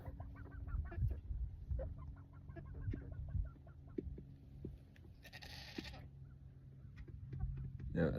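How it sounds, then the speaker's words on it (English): Chickens clucking and calling nearby with an odd, bleating quality, a few sharp cries over low background rumble; no speech. "Now, I heard a weird noise coming out of the chickens."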